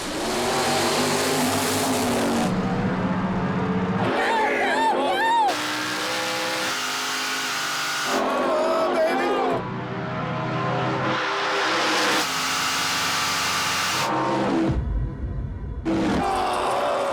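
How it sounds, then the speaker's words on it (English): A 1970 Opel GT and a 1967 Chevrolet Nova drag racing for a spot in the final, engines roaring loudly and steadily across the whole stretch, with announcer commentary and crowd noise mixed over the cars. "Young Burt Wilton's 1970 Opel GT is racing against old-timer Jed Dahar and his 67 Nova for a spot in the final"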